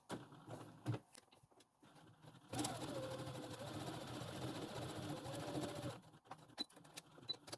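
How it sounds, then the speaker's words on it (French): A sewing machine stitching a fabric pouch, running in a fast continuous burst of rapid mechanical needle clatter for a few seconds, with quieter handling clicks and fabric rustle before and after. "Et je viens coudre."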